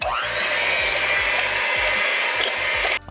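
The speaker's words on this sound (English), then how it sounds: "So you'll put that in and you're just gonna whisk this up until stiff peaks form." An electric hand mixer whipping cream for no-churn macadamia nut ice cream, a loud continuous whirring motor drone up close, cutting off abruptly at the end, no voices.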